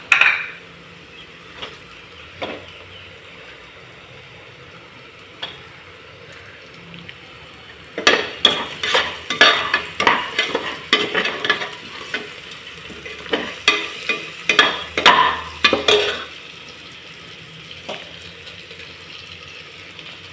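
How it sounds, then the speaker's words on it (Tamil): Sliced onions sauté in hot oil for mutton biryani, a soft background sizzle broken by bursts of clattering spatula stirring in the middle, near and alone without talk. "இப்போ இது நல்லா ப்ரௌனிஷாக வரட்டும், அது வரைக்கும் நல்லா வதக்கிக்கலாம்."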